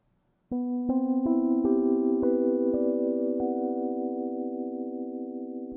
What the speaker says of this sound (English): There's a type of instrument that's called a Rhodes